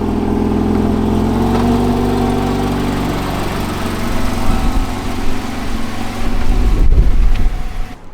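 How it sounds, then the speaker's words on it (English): A Porsche 987 sports car engine hums at a steady idle, then rises in a rev and settles into an uneven rumble with a louder surge near the end, heard close with no voices. "Alright, so the Fiat's moved, and now I'm ready to take out the 987."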